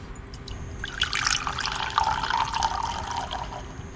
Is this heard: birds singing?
no